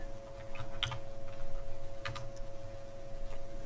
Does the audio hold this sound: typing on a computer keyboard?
yes